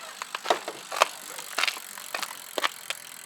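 Irregular clicking and ticking from a noisy, faulty bicycle wheel spinning off the bike, sharp rattly taps at uneven intervals against a quiet background.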